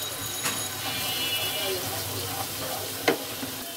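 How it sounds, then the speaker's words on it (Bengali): Masala spices sautéed in a pan with coriander powder for a tomato and pabda fish curry, a steady close sizzle with occasional spatula scrapes and a sharp clink near the end. "এখন ভালো করে মশলাটা কষিয়ে নিতে হবে।"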